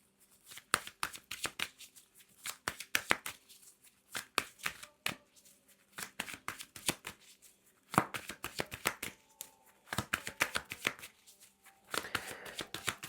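Tarot cards being shuffled by hand, a brisk run of sharp riffling slaps and clicks in quick bursts with brief pauses between them, close and clear with no talking.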